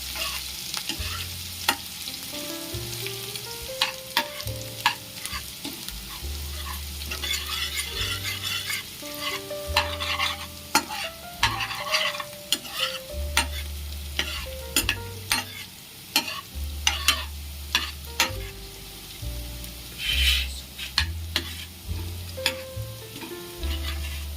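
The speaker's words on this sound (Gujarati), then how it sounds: "આપણે એને આવી રીતના હલાવી નાખીશું. બધું મિક્સ કરી દેવાનું છે." Momo filling mixture being stirred in a hot pan for fried street-style momos, with steady scraping strokes and a continuous sizzle that rises and falls in repeated bursts, close and fairly loud, with no talking.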